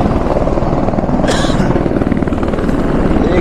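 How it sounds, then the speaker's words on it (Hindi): A helicopter's rotor chops steadily throughout, loud and fairly close, at Kedarnath, India, with a brief higher whoosh partway through. "हेलीकॉप्टर आ रहे हैं, जा रहे हैं।"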